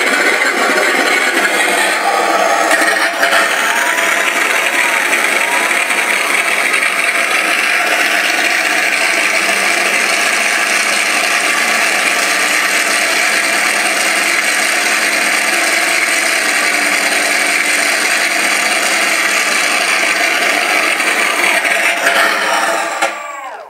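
An RC sound system card plays a loud, continuous synthetic aircraft engine drone, synced to the throttle as a model plane's propeller turns, holding steady for over twenty seconds before cutting off at the end.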